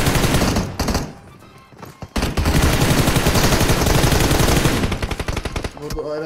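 Loud automatic gunfire in PUBG Mobile, long rattling bursts that fill most of the stretch, broken by a short pause, then sustained firing that tapers into scattered shots near the end.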